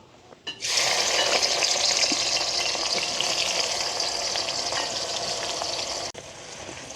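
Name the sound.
onions frying in oil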